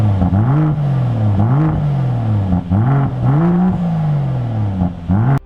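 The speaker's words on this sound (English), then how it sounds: "a new exhaust system to make it sound like this" Volvo XC70 T6 five-cylinder turbo with an aftermarket exhaust revving repeatedly, loud rising and falling blips in a rhythmic series, close and alone with no talk.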